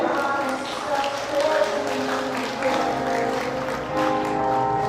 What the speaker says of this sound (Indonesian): Kehadiran kedua mempelai, mari kita sambut dengan tepuk tangan yang paling meriah